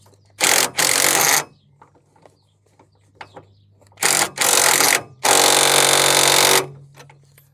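A deep socket tightening the lower ball joint on a Peugeot J5 driveshaft, heard as three close, loud bursts of mechanical whirring separated by quiet pauses and faint clicks.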